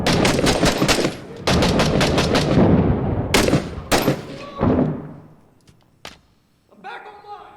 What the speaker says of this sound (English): Grenade going out.